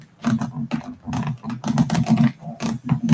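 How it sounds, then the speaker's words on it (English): Rapid irregular clatter of computer keyboard keys pressed by a cat walking across them, dense clustered taps and thumps at close range, with no talk. "I can hear her on the keyboard."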